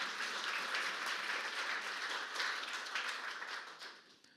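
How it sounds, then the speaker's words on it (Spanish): A church congregation applauds a preacher in a soft, fairly distant wash of clapping that holds steady and then fades away near the end. "Un aplauso a ese maestro que tenemos"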